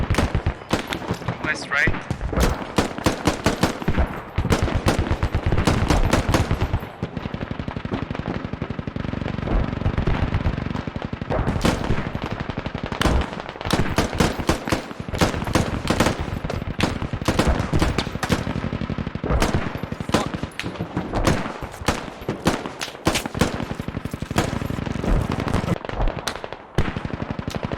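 Dense gunfire in the military shooter game Squad: rapid automatic bursts and sharp single shots crackle near and far throughout, with players talking briefly over the firefight.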